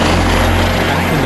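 A police flight-test helicopter drones in a continuous, loud broadband roar with steady low rotor and engine hum, filling the whole moment without talk.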